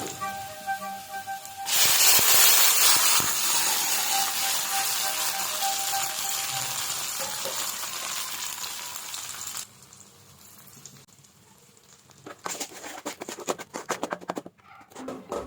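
Onion, ginger-garlic paste and tomato fry in a pan with a loud, steady hiss that surges as the ingredients go in, eases to a softer sizzle, then comes with scattered crackles and stirring noises near the end; no voices.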